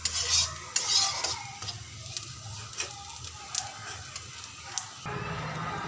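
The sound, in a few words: stir-frying bottle gourd peels in a pan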